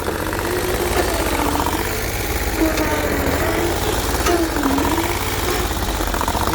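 A Bolens 1600H garden tractor with a Briggs & Stratton 20 HP V-twin engine runs nearby with a loud, steady, rumbling idle and a faint knocking rhythm, continuous and without speech.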